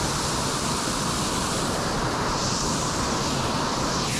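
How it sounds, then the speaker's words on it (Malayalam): Steady rushing water pours down a small waterfall in Kerala, a continuous broadband roar with no breaks, close and fairly loud throughout with no voices. "ഇത് കുഞ്ഞൻ വെള്ളച്ചാട്ടാണ് ലാസ്റ്റത്തെ"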